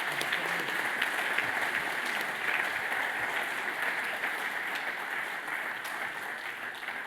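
Sustained audience applause fills a football awards ceremony hall, a steady dense wash of clapping from a large crowd at moderate distance, holding evenly for several seconds with no talk.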